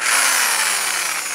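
A power drill fitted for grinding scours rust off the seat springs of a Chevrolet Opala seat, a loud continuous harsh abrasive whir with no talking over it.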